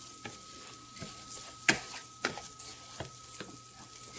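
Rice toasting in garlic butter in a pan over medium heat, a faint steady sizzle broken by sharp scraping and clinking strokes from stirring at irregular intervals.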